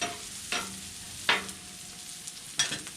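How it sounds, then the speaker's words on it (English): Jalapenos sizzling in a pan, a constant low frying hiss broken by three sharp scraping stirs as they are pushed across the pan, close and moderately quiet with no speech. "I'm going to slide these jalapenos over to the middle and let them continue to cook a little bit right here."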